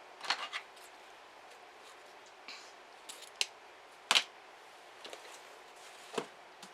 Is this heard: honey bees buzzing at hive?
no